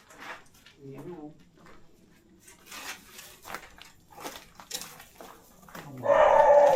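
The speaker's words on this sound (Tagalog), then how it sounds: "There's dogs." Dogs in a cemetery, with people talking quietly and moving about, and then a loud, close bark breaks out near the end.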